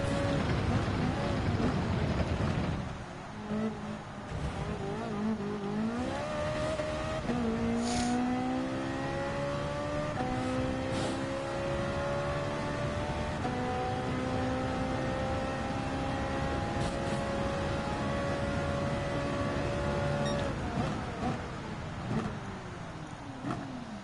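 Ferrari 458 Italia GT3 race car in Gran Turismo 7 lapping Red Bull Ring, its engine droning loudly and continuously with rising and falling revs through gear changes, steady up close.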